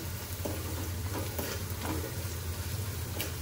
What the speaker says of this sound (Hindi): अब 2 सेकंड में ये मसाला भुन जाएगा साथ में इसके